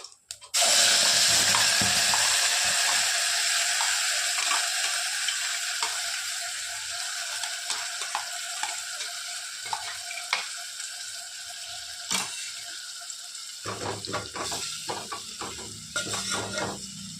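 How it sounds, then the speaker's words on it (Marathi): Cumin seeds, curry leaves and masala dropped into hot oil burst into a loud sizzle that settles into a steady crackling hiss, with scattered stirring clinks and scrapes toward the end. "बघा तेल गरम झालं आता टाका ते जिरे कढीपत्ता आता टाकत आहोत आपण मसाला"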